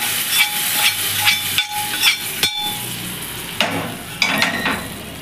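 Hot oil tempering is poured into sesame pachi pulusu and sizzles loudly in sharp bursts, with a few clanks and stirring noises between the hissing spurts.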